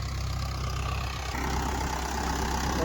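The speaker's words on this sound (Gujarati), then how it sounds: "તુવેરમાં જો કે ટ્રેક્ટર હાંકવાનું કામ ચાલુ છે" Tractor pulling a rotavator through a pigeon pea field, a steady low engine drone at moderate distance that swells slightly toward the end, with no talk.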